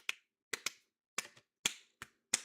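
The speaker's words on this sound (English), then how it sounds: "They start clapping offbeat" A German television audience clapping on the offbeat: six sharp, separate claps, some doubled, falling at uneven intervals against near silence.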